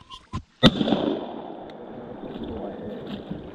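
A single loud gunshot from a duck hunt cracks out nearby after a couple of short knocks, followed by a long rumbling echo that fades across open space.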